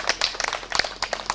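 A crowd claps for party MCAs standing and waving at a PNU party anniversary celebration, a rapid patter of many hands that stays fairly even and moderately loud throughout, with no talk over it.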